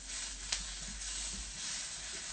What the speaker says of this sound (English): You just want your potatoes on you want to hear a sizzle